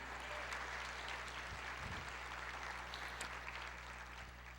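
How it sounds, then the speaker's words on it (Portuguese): A church congregation applauds during a sermon, a steady wash of fairly faint clapping over a low hum, continuing evenly without speech. "Você pode aplaudir o Senhor, dizer glória a Deus"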